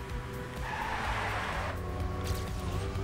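Car in Trackmania braking hard and skidding, a sustained loud tire squeal over engine roar that rises and fades within a few seconds, close and continuous.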